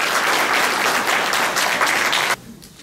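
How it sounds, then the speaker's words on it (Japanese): An audience at a public forum gives two speakers a big round of applause, loud and sustained before cutting off sharply into quiet room tone. "もう一回お二人に大きな拍手を"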